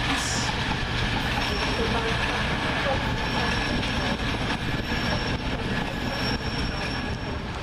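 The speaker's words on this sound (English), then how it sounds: "that will be the 10:51 cross-country service from Newcastle to Reading" A CrossCountry diesel unit, 220018, runs through a station on the far side of the platforms on its Newcastle to Reading service, a loud sustained rumble with faint whining tones above it.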